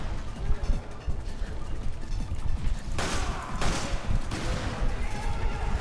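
Shotgun blasts from Resident Evil 5 Mercenaries mode ring out in several sharp bursts spaced about a second apart, amid other game noise and a player talking.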